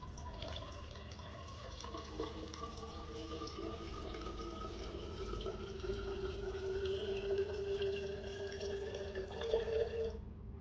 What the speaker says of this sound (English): Oh, it's pouring out.